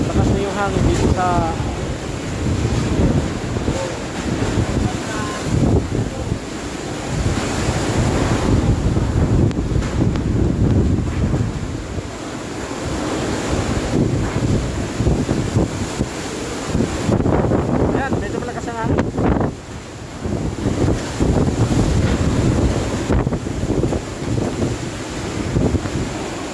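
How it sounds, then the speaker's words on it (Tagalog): Super Typhoon Rolly (Goni) batters Naga City with strong wind that roars and gusts continuously. Heavy buffeting noise on the microphone rises and dips in waves for nearly half a minute. "Malakas na yung hangin."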